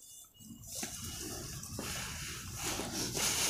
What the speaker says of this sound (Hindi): मगर ये पानी है जो बड़े बड़े पहाड़ को काट देता है